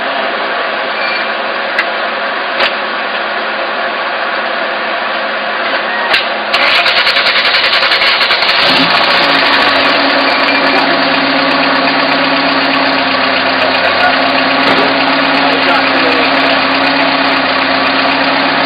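A small engine runs with no oil or water, droning steadily at close range with a loud, constant idle that grows rougher and more rattling partway through.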